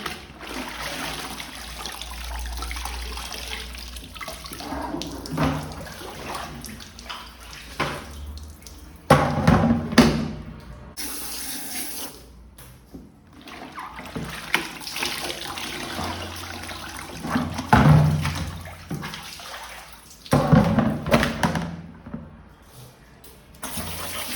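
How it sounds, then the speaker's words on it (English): Cycling clothes are rinsed and squeezed in water, giving irregular splashing and sloshing in several louder bursts over a steady watery background. "So we're going to empty this out now and give everything a rinse."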